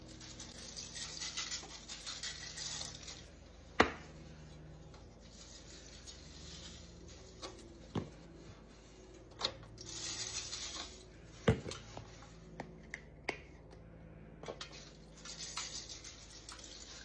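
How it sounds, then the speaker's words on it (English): Aluminium foil crinkling and rustling as an onion is wrapped, continuous close crackling with a handful of sharper crumples and taps, no talking. "I wrap my onion up in foil like this"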